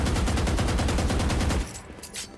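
Rapid automatic gunfire in the tactical shooter Valorant, fired through a wall to counter a Cypher cage setup; a dense, steady burst of close, loud shots for about a second and a half, then cutting off to near quiet.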